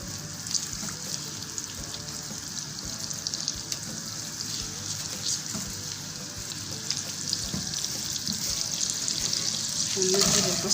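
Butter and oil sizzling in a pan for spicy soy-sauce noodles, a continuous moderate frying hiss with light clinks, swelling louder near the end.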